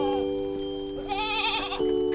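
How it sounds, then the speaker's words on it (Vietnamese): Goats bleat in a children's counting lesson: one wavering, nasal bleat rises midway and lasts under a second, set over steady sustained musical tones that continue before and after. "Hai con dê."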